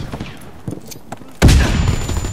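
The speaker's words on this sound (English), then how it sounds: "Got him with a shotgun." A single heavy shotgun blast goes off up close in a World War II shooter on a winter Carentan map, followed by a ringing tail, with lighter action sounds before it.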